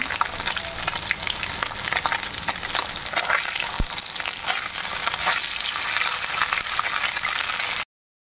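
River fish frying in hot oil for a Bengali village dish, giving a steady, dense sizzle with crackling spatter that runs loud and unbroken, with no voices.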